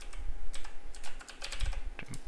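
Typing code on a computer keyboard while building a Raspberry Pi Pico W web socket dashboard, a quick close run of clicky keystrokes with no voice.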